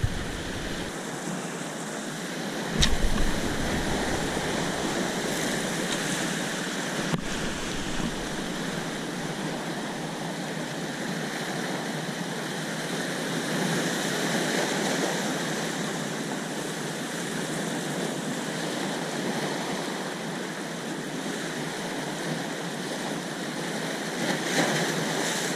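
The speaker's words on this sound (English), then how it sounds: "just with the waves and everything on the highest point of the tide" Ocean waves wash steadily against a rocky shore at high tide in a broad, continuous roar, with wind rumbling across the microphone and a few brief knocks, and no voices.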